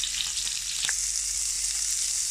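Sausages fry loudly in hot oil for rougail saucisse, giving a dense, steady sizzle, close to the pan, with one brief clink partway through.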